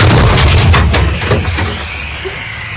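An artillery cannon fires a shot at the front line, a loud deep boom that rumbles on and slowly fades.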